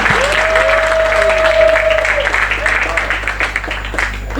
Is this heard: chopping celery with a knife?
no